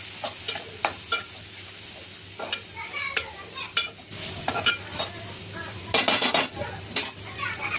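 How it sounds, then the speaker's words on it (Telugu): Chana dal frying in a little oil with turmeric over low heat, stirred with a utensil: a steady sizzle under repeated scraping and clinking strokes against the pan, close and fairly loud, no voices. "కొంచెం నూనెలో పప్పు ఫ్రై కావాలి. ఫ్రై అయ్యే వరకు కలుపుకోవాలి."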